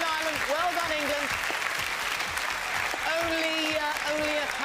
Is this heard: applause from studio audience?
yes